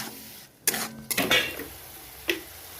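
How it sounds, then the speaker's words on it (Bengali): Rui fish masala with yogurt being stirred in a pan, a few sharp scrapes and clanks of a spoon against the metal, separated by short quiet gaps. "এর মধ্যে ভালো করে নেড়ে কষে নেব।"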